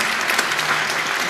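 Steady studio audience applause fills the moment, a dense wash of clapping at even loudness throughout, with no voices over it.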